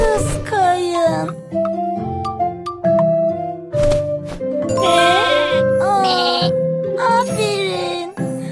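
Repeated sheep bleats in a Caillou counting video game, several short cries spaced out over cheerful game music with chimes and tinkling jingles.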